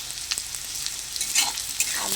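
Potatoes, eggplant and pumpkin fry with ginger-garlic paste, a steady close sizzle broken by scraping stirs and clinks of a spatula.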